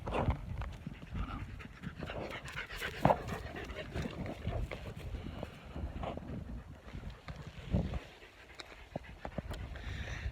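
A contented dog panting steadily close by, rapid rhythmic breaths continuing for about ten seconds with a little background rustle and no speech.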